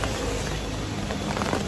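Steady rain falls outdoors as a dense, even hiss of drops on surfaces, close and constant, with a few brief heavier spatters near the end and no talk.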